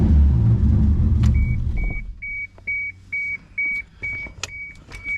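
A car set up with E85 and an oil pressure gauge idles with a deep rumble while warming up, then the engine cuts off after two seconds, leaving a steady run of short, evenly spaced electronic beeps.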